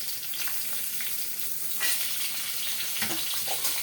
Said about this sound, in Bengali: আলুটা একটু ভাজা করে নেব